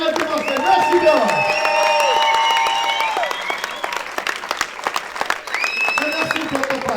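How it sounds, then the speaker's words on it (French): Audience applause at a live public talk in Marseille, clapping under and between a speaking voice, with a whistle-like tone, moderately loud, continuing throughout. "On les applaudit s'il vous plaît."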